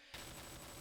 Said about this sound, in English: unsuppressed gunfire.